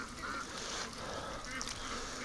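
Muscovy ducks lagging at the back of a flock heading out toward a lake, giving faint, soft calls over steady outdoor background noise, fairly distant and low in level.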